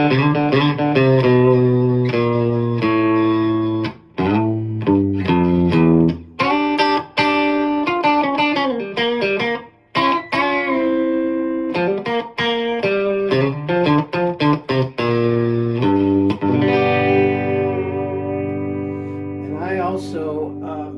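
Electric guitar played in a country style through a Fender Mustang GTX100 amplifier, with sustained chords and single-note lines carrying distortion, echo and chorus-like effects, loud and continuous throughout.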